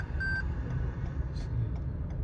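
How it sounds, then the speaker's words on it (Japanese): A Lexus LS500h safety system gives a single short, clear electronic warning beep as it alerts the driver to crossing traffic when pulling away. A low, steady rumble runs underneath. "ドライバーが発進するとシステムが判断した場合にはブザーにより注意を"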